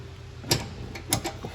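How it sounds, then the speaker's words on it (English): A propane hose quick-connect snaps onto the fitting of a 2022 Wildwood 28VBXL camper: two sharp metallic clicks about half a second apart, then a lighter clack, close up with no talk. "So now that hose is attached, we can open up the flow."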